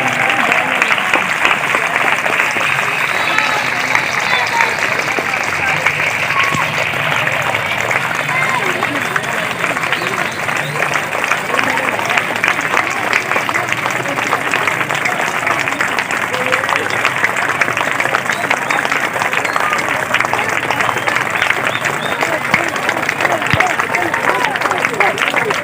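An audience at an independence day event applauds loudly and steadily for nearly half a minute, a dense wash of clapping with crowd noise and voices mixed in.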